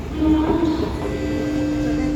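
A Singapore metro train ride toward Marina Bay, a steady rumbling carriage drone with a sustained electric whine and rail hum, while a person talks briefly near the start.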